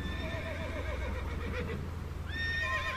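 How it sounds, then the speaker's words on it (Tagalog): A horse gives a long, wavering neigh that rises and falls, then breaks into a sharper, higher whinny near the end, loud and close, with faint hoof movement beneath and no talk. "ngayon ko lang narinig ang ganyang halinghing na kabayo"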